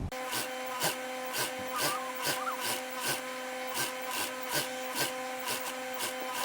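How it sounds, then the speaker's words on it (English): A home sewing machine runs steadily while stitching fabric for a shirred off-shoulder tube top, giving a close, even mechanical whir with a regular ticking pulse, and no one speaks. "Now I'm going to stitch this down."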